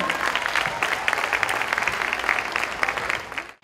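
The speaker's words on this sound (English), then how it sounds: "Please give a big round of applause to Surajam sir and his group once again" An audience claps for a dance group in a brisk, full burst of applause that runs evenly and then cuts off abruptly.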